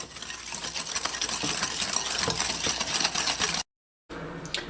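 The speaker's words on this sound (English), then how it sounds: "I'm going to whisk this until it gets a very light yellow or pale yellow color" Wire whisk beating eggs and sugar in a bowl for pastry cream, a steady rapid clatter of fast, even strokes, close and loud, stopping briefly near the end before resuming.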